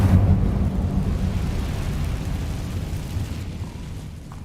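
Incendio fire spell blast in Hogwarts Legacy, a deep, rumbling whoosh of flame that starts loud and slowly fades over several seconds, heard alone.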